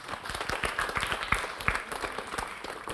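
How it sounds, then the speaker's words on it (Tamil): A seated audience of parents at a school and college students' Thirukkural speaking contest bursts into applause, many hands clapping in a dense, steady patter with sharp individual claps standing out, close and sustained. "பெற்றோர்களுக்கு ஒரு நல்ல கைத்தட்டல் கொடுத்துடலாம்"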